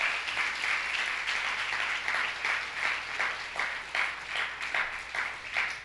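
Congregation at a Christian church service in El Salvador applauding steadily, dense sustained clapping with rhythmic swells throughout, no voices over it.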